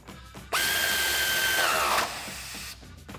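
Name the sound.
power tool with 18mm socket tightening shock bolt on Jeep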